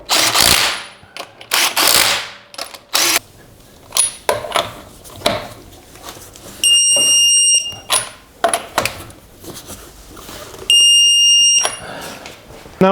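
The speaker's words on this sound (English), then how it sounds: "I'm just going to spin them in a little bit with this small impact" A small impact wrench spins lug nuts onto the front wheel of a 2005-2010 Jeep Grand Cherokee, firing in loud rattling bursts with short pauses and clicks between them, close and with no talking.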